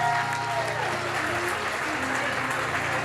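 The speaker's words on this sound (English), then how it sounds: "Please continue the loud round of applause." Wedding guests applaud at a reception, a steady roar of clapping that continues at an even level, with background music and voices running underneath it.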